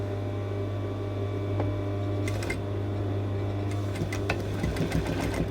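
A sewing machine stitches binding onto a neckline, its motor humming steadily with a constant tone and faint rapid needle clatter, close and fairly quiet with no talking.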